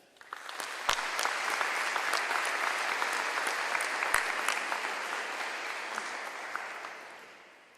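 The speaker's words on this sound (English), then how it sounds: "Could we please have a round of applause for our all high school teachers and staff?" Warm round of applause from a high school convocation audience honoring teachers and staff, swelling quickly into dense, even clapping, holding steady, then tapering off.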